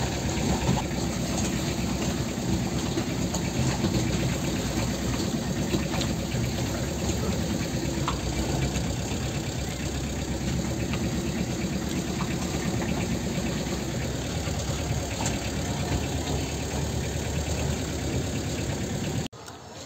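A Force Minidoor truck engine reverses a long way on a rough road, giving a steady, continuous mid-pitched drone throughout with slight rattling and no talk.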